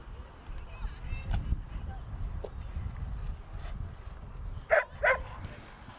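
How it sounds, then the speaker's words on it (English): A Portuguese water dog barks behind spectators at a high school field hockey game, a few sharp barks toward the end, fairly distant under a steady hum of crowd and outdoor noise. "There is a gorgeous Portuguese water dog behind us that is very vocal today"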